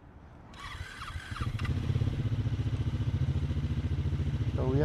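A 2024 Triumph Speed 400 single-cylinder motorcycle starts up and settles into a steady, throbbing idle with a regular low pulse, heard up close with no one speaking.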